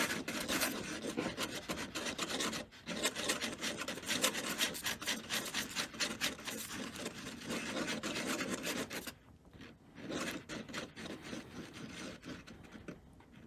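Marine grade epoxy being stirred and mixed, a steady scraping, rubbing rasp of fast repeated strokes, close and fairly loud, pausing briefly near the end before resuming.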